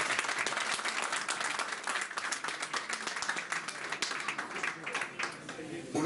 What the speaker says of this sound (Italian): applauso ragazzi, dai.